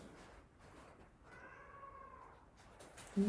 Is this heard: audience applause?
no